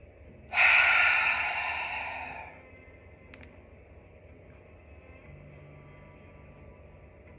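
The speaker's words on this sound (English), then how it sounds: "As you breathe it out" A single long, loud breath out during guided meditation, close and breathy, rising sharply then fading over about two seconds before quiet room tone.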